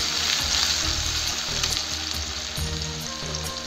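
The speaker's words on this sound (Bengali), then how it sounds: "এই পেস্টটা ভালো করে লাল লাল করে ভেজে নেবো" Onion paste frying in oil for a potato and soybean curry, a loud, continuous close-up sizzle with faint low thumps underneath.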